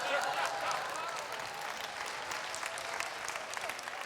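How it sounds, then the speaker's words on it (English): A theatre audience claps continuously in a dense, steady round of applause, loudest at the start and easing slightly, with a voice talking faintly over it. "But if you go on clapping a little bit more"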